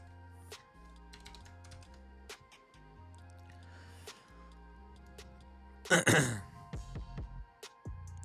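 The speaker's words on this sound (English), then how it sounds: "Sorry for clearing my throat in the mic." A person clears their throat close into a microphone, one sharp, loud burst near the end following quiet keyboard clicks and ticks.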